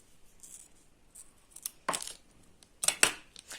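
Scissors snip through material in a few sharp, close cuts, separated by quiet pauses.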